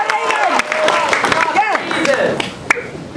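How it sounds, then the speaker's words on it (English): An audience at a 2010 magic camp close-up performance claps for a magician, sharp individual claps rising over loud cheering and overlapping voices. "let's give a big round of applause"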